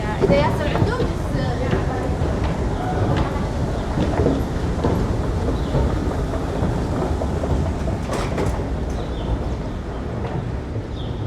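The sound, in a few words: subway train departing station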